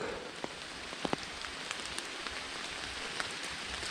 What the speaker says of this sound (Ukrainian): Дощ паде з самого ранку.